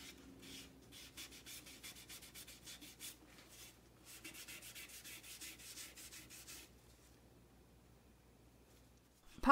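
Dye being rubbed by hand onto a soft poplar vase in a woodturning shop gives a soft, steady, rhythmic rubbing that runs for several seconds, then thins out and stops before a brief bump at the very end.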